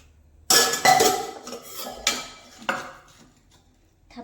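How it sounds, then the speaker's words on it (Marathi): A spatula scrapes and taps against a metal pan while patting down a ghee-greased coconut khoa mixture for naral vadi, a few clattering knocks and clinks followed by softer scrapes. "मी स्पॅच्युलेनेच थापते"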